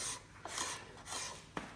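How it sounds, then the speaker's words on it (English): A blade scrapes across the wood of a bungalow window in three or four steady rasping strokes, close and fairly loud, with no talking. "we started off there to get your attention with the scraping there"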